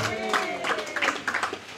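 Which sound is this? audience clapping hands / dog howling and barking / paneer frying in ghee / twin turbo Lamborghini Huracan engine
audience clapping hands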